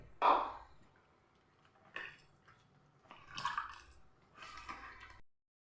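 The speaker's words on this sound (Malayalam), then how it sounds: "വെള്ളം കൂടെ ഒഴിക്കുന്നുണ്ട്" Water is poured into a wheat flour batter in several short splashing bursts separated by pauses, close and quiet.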